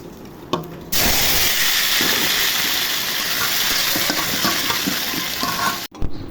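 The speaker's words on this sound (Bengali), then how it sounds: "তেল গরম হয়ে গেছে। এখন আলুগুলো ভেজে নিব।" Turmeric-and-salt-coated potatoes drop into hot oil, and a loud, dense sizzle with crackle and hiss begins abruptly and runs steadily before cutting off near the end, with no talking.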